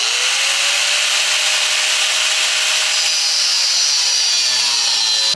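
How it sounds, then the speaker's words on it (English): A steady, continuous power-tool cut trims excess handlebar tube to length on Yamaha YSR50/YSR80 clip-on handlebars, running loud and unbroken with a rising whine that fades near the end. "I'm going to go ahead and just trim off the extra length and keep everything stock length"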